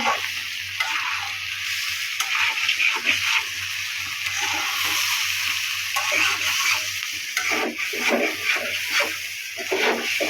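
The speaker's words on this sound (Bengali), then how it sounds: "এই যে পোলার চাল আর হচ্ছে মশলা ভালোভাবে ভাজতে নেবে" Polao rice and spices fry in a pan for winter khichuri, giving a continuous close sizzle with repeated stirring scrapes and a low steady hum underneath.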